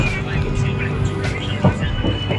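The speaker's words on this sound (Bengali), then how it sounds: "আমাদের ট্রেন কটক ছেড়ে যাচ্ছে" A continuous low rumble and hum of a train departing Cuttack station at night, heard from inside, steady and fairly loud throughout.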